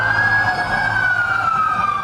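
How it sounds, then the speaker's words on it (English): Emergency vehicle sirens wail along Roxas Boulevard in Manila during a city-wide earthquake drill, a steady loud tone that slowly slides downward over a low rumble of traffic. "The sound of sirens fills Rojas Boulevard."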